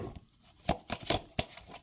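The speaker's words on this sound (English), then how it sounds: "Just going to try to shuffle some of these out" Oracle cards are shuffled by hand in a quick series of soft papery riffles and slaps, several brief bursts spaced irregularly, close and fairly quiet with no talking.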